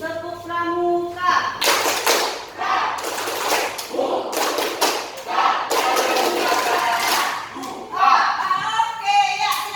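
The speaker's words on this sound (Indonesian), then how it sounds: "Tepuk pramuka." Scout rhythmic clapping, the tepuk pramuka, comes in several loud bursts from a group of students in a classroom, with a teacher and children talking between the bursts.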